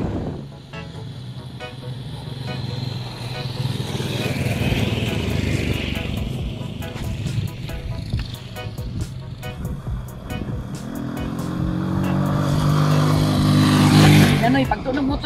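A motorcycle engine runs close by with a steady, buzzing drone that grows louder toward the end, while people talk over it throughout.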